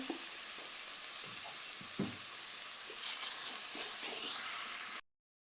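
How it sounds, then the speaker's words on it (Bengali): Turmeric, chili powder and salt sizzle in hot oil with onion and garlic, a close, continuous fry hiss that swells near the end, with a few soft stirring clicks before it cuts off abruptly. "মশলাটা আমি দুই মিনিট ভালোভাবে কষিয়ে নিয়েছি"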